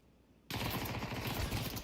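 Rapid, dense automatic gunfire spammed through a wall in Counter-Strike bursts in suddenly after a brief quiet and keeps up as a continuous rattling stream to the end.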